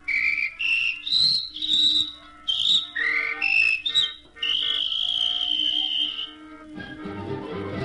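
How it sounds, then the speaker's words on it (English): Loud, shrill police whistle blasts in quick short notes that shift in pitch, then one long sustained blast, followed by a dull rumble. "was he surprised when he blew his whistle"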